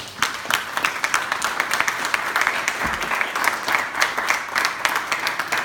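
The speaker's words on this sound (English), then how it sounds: "Clap for the Lord." A church congregation claps together at a Sunday service, a lively, steady burst of crowd applause filling the room throughout, fairly loud and close.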